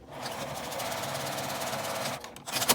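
Sewing machine stitching a seam on a fabric zipper pen case, a fast steady mechanical chatter for about two seconds, then slowing and stopping with a few uneven knocks.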